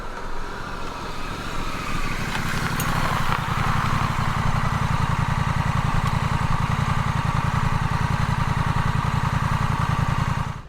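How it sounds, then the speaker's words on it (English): A 2025 Honda CMX1100 Rebel motorcycle engine runs through its standard exhaust with a deep, steady throb that swells early on and then holds a loud, even rumble until it cuts off at the end. "The engine pulls lovely through the rev range and has a gorgeous deep sound through that standard exhaust"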